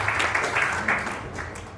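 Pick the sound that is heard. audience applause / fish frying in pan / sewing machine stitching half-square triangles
audience applause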